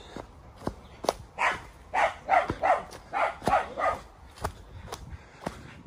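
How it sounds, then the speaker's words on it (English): A dog barks repeatedly in short bursts during a walk along a steep path near Batley, the loud barks close by with footsteps and light outdoor noise around them. "Shut up, dog."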